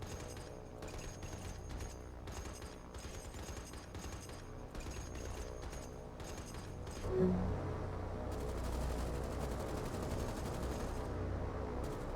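Anti-aircraft guns in the naval combat game War on the Sea fire in a dense, sustained barrage, with rapid overlapping bursts that run continuously at a steady, fairly loud level and a heavier boom partway through.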